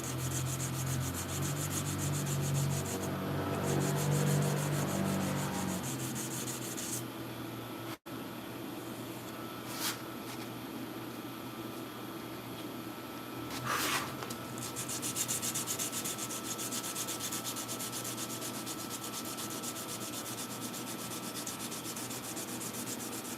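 A sword blade is sanded by hand in steady back-and-forth rubbing strokes, soft and close, over a faint background hum, with a few brief clicks and knocks between passes.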